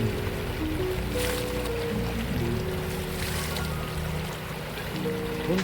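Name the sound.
Hundru river stream flowing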